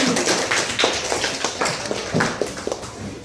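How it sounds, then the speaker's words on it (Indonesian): Scattered hand claps from a classroom of children, irregular and fairly close, several distinct smacks spread across a few seconds rather than a full continuous round. "tepuk tangan untuk Agni."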